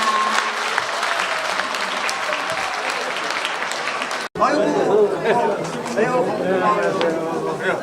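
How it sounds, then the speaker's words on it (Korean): Audience applause at the close of a lawmaker's report meeting, a dense sustained clapping that briefly drops out, then resumes with crowd chatter and voices talking over it. "큰 박수로 행사를 마치도록 하겠습니다"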